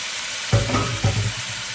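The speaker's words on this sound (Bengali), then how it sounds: "এখন আমি ডিমগুলো আর বেগুন ভাজা দিয়ে দিলাম" Eggs and fried brinjal land in a pan of browned onion and green chili, a dense steady sizzle punctuated by two thicker bursts as pieces hit the hot oil, close and loud.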